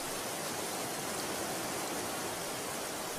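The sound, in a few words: running water draining from a beaver pond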